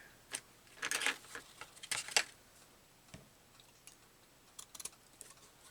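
Scissors cut paper for a collage in a few clusters of sharp, close snips separated by quiet pauses, with soft clicks near the end.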